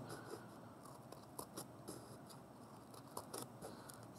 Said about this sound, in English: you are going to use your scissors and you are going to cut on those right up to the line